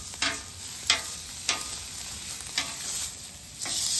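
Steak with a fat cap sears on a hot Weber griddle set to high, a faint steady sizzle broken by a few brief scraping stirs from a spatula, with no talking.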